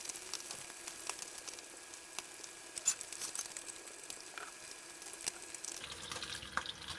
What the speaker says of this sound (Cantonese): 唔使落咁多油都可以煎香條魚嘛